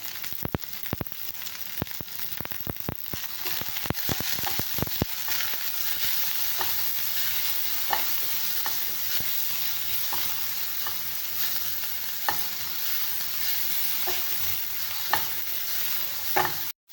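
Sliced onions frying in oil with mustard seeds, cumin and a little salt for a ridge gourd gravy, with a loud steady sizzle and sharp popping crackles early on, then a constant hiss to the end.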